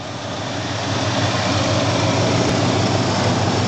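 A Ford F-250 pickup with its emissions equipment deleted idles on a baseline tune through a stock muffler and tip, giving a loud, even, close rumble that holds steady without any voices.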